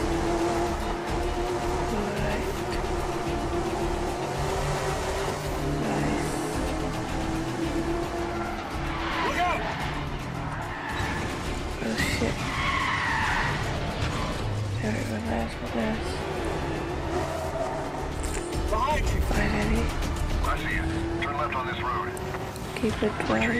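In Medal of Honor Warfighter, cars drive through busy traffic with a constant engine roar and tires that squeal and skid now and then. People talk over the driving throughout.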